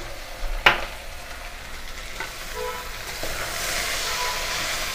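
A mixed vegetable poori curry spiced with chilli, coriander and cumin powders cooks in a pan over low heat. One sharp metallic clank is followed by soft scraping and a steady sizzle that swells toward the end.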